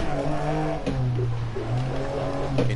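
A Lancia Stratos rally car engine in a video game drones at steady, fairly loud revs, its pitch shifting between gears with brief dips and surges, with no talking heard.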